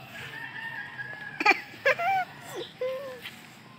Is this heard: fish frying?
no